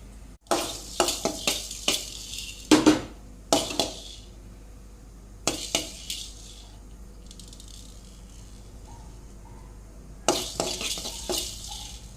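Fenugreek seeds and spices fry in a pan and are stirred in sharp scraping bursts that come in clusters, with a soft sizzle in the pauses between them.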